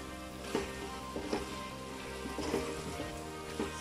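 Bhaji and potato curry cooking in a pan, giving a soft steady sizzle with a few brief louder bursts of bubbling or stirring, close by and without talk.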